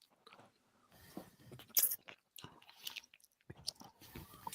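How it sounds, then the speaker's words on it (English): Close, crunchy chewing of nuts in an open mouth, with irregular bursts of crackling bites and grinding spread across several seconds, loud near the mouth with brief quiet gaps between chews. "I'm putting nuts in my mouth."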